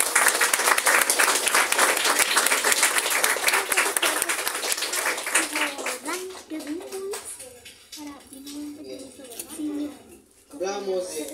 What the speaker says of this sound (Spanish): Un fuerte aplauso al Señor por esta.